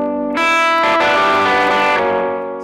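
Electric guitar runs through a 1176 compressor with its input gain cranked, a loud, saturated, ragged sustained chord that rings for a couple of seconds before easing off, with no talking.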